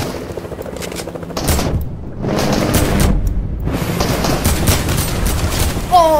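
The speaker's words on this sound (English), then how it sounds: "Oh, taking shots, taking shots." Gunfire during a Fortnite squad match, with bursts of rapid shots and loud booming volleys that come in waves over a few seconds, and a brief chime near the end.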